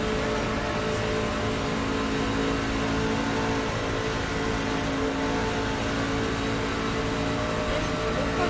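Race car engines in a racing video game hold a loud, continuous, droning roar with slight rises and falls in revs, steady and close throughout with no talk.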